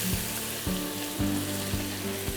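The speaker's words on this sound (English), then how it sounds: "let it sizzle for a few seconds" Oil sizzles steadily in a pan with a bay leaf, a constant crackling hiss with a few soft knocks of utensils, close by.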